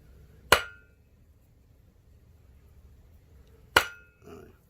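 Two sharp, ringing hammer blows strike copper on an anvil during forging of a bangle, spaced about three seconds apart, each decaying quickly, with a softer tap after the second.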